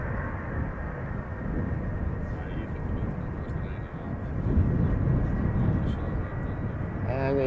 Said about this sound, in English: Delta Airlines flight 9921 outbound to Atlanta, Georgia, A330-300.